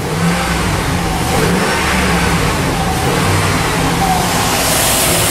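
A 2001 Dodge Dakota engine with straight pipe exhaust runs steadily and close, a loud continuous mid-pitched rumble with slight revving swells throughout.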